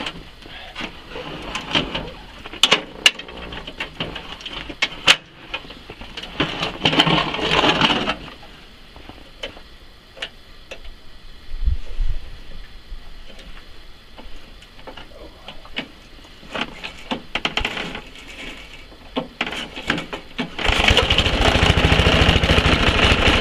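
An old Toro two-stage snowblower starts cold and runs, a ragged, rattling small-engine chatter with uneven bursts, brief pauses and a louder steady run near the end, with no talk.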